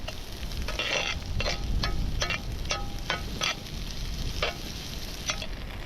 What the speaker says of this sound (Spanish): Chile, cebolla, ajo, va directo aquí. Oh, escuchen eso. Vamos a sofreírlo en el fuego.